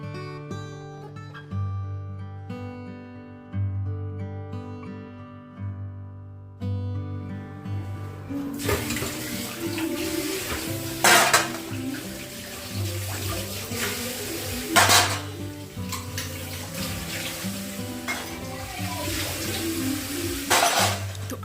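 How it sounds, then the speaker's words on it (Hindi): Running water pours at a kitchen sink as dishes are washed, a steady broadband rush from about nine seconds on with a few sharper clatters, following a quieter stretch of soft background music at the start. "सबसे पहले मैं अपने बर्तनों को वॉश कर लूँगी, डिश वॉश कर लूँगी"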